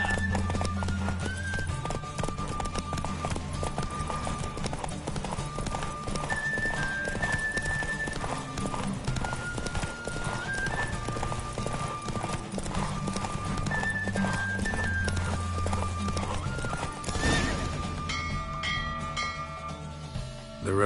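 Hoofbeats of Roach, a horse in the video game Witcher 3, clip-clop steadily at a gallop through a race, with occasional whinnies and a constant bed of game music underneath.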